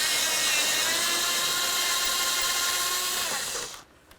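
A power tool removing bumper mounting bolts on a 2007-2013 Hyundai Santa Fe, a continuous high whirring drone held close for several seconds before winding down and stopping.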